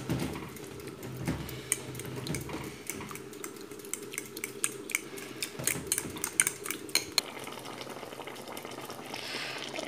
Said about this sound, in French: Et je vais mélanger le tout.